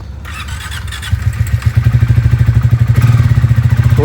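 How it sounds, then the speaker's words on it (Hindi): A motorcycle cold-starts with a brief whir, then its engine settles into a steady, loud, close idle with a fast, even pulsing throb and no talk. "बाइक को अब एक बार कोल्ड स्टार्ट कर लेते हैं पहले"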